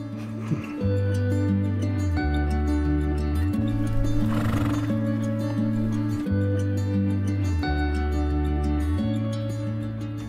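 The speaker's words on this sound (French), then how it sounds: "On arrive et on aperçoit le troupeau des chevaux." A herd of horses on a farm whinnying and neighing repeatedly over a steady backdrop of tonal music, with hooves faintly clopping; calls are clear and fairly close, no talking.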